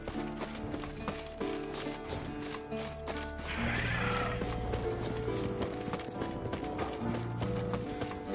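Steady hoofbeats clip-clop along at a trotting pace in The Witcher 3 video game, mixed with game-style ambience and music, with a brief whoosh in the middle.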